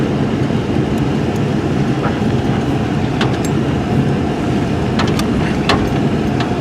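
A 1993 Chevrolet Blazer 4x4 engine runs steadily at idle after overheating, with a strong transmission-fluid smell, giving a loud continuous rumble with a few faint clicks on top and no talk.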